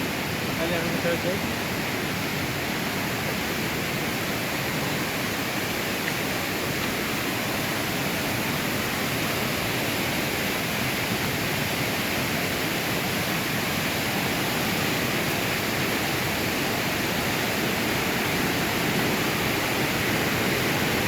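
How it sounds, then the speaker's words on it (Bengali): Khaiyachhara waterfall roars in a steady, dense rush of falling water, loud and unbroken throughout with no pauses, filling the whole scene at close range. "খৈয়াছড়া ঝর্ণার সবচাইতে ভয়ঙ্কর যে স্পটটা, সেখানে আসছি আমরা"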